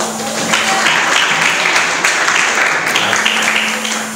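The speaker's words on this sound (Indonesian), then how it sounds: "Tepuk tangan bagi Tuhan." A church congregation applauding during a sermon, a steady loud wash of clapping from many hands that lasts throughout and swells slightly midway, with no pauses.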